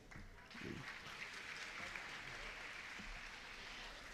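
An audience at a school graduation ceremony applauds warmly, dense clapping rising quickly after a brief moment and sustaining at an even level, with a voice briefly heard at the start.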